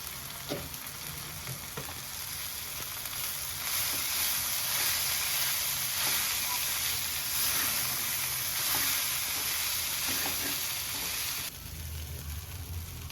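Poha (flattened rice) tipped into a sizzling tempering and stirred, a steady close hiss of frying with scraping stirs throughout, easing off near the end.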